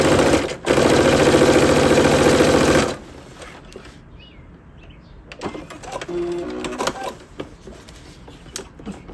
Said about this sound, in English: you're going to stitch it 1/8 of an inch from the edge